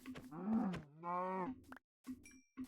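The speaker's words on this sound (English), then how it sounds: "Hey, cow." A cow in Minecraft Bedrock moos twice in quick succession, clear and close, followed by a short soft thud and a brief faint tone.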